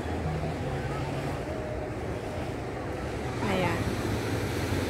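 Ocean waves at Big Wave Bay beach in Hong Kong wash in as a steady, broad rushing roar, with wind buffeting the microphone and a voice heard faintly in the background.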